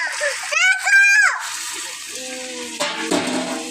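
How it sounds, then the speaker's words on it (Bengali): Water poured into a curry cooking in a pan, giving a brief splashing hiss over the frying sizzle, close up, with a voice heard alongside. "এইবার একটু হালকা করে জল দিলাম।"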